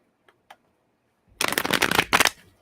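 Tarot cards being shuffled: two faint taps, a pause, then a close burst of riffling flutters in two quick runs, with no talking.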